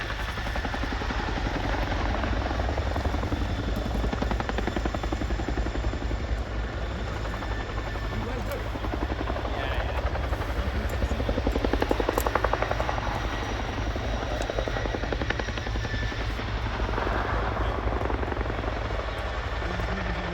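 A Chinook twin-rotor helicopter flies a display at the RIAT 2025 airshow, its deep rotor thrum and engine roar loud and continuous throughout, swelling slightly midway with no talk over it.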